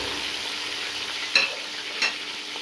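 Three onions frying in a cup of hot oil, a steady close sizzle with two brief stirring scrapes, no voices.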